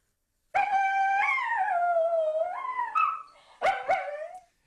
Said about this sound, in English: That's just a dog.